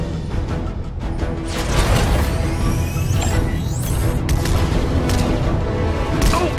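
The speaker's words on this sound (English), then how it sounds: "I was hoping we'd have an excuse to try out the Battle Bus's laser cannons" Loud, continuous barrage of electronic zaps and booming blasts from the Battle Bus's laser cannons in Fortnite, with rapid laser-like sweeps layered over a dense rumbling background.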